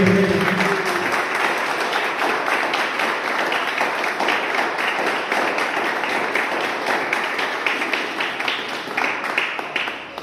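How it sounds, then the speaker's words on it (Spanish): A church congregation breaks into loud, sustained applause at a Spanish-language service, a dense wash of clapping that stays steady for about ten seconds. "Regálale un fuerte aplauso al Rey de Reyes."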